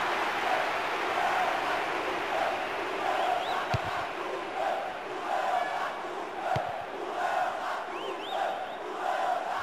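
A stadium crowd in the Bomba Patch football video game on PS2 roars continuously, with surging chants and a few sharp thuds over the steady wall of cheering.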